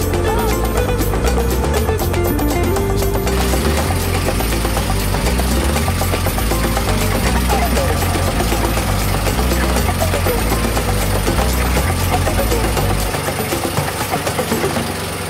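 A steady, loud low engine drone runs throughout from a motorboat chugging along toward a Philippine beach island, with a rhythmic low-frequency throb and no speech.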